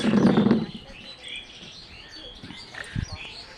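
Birds chirp in leafy trees, a few faint, scattered tweets from some distance, with a brief voice near the start.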